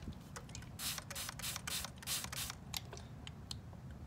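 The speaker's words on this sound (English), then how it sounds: "I'm just gonna spray it with this." A handheld spray bottle misting rose stems with a rapid run of short hissing squirts, several bursts in a row then a few scattered ones, close and fairly quiet over a low background hum.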